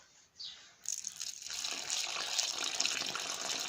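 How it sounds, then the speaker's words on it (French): Water from a garden watering can pours steadily onto freshly planted, staked tomato plants, a continuous close splashing gush that starts abruptly and runs on alone. "Je prends mon arrosoir."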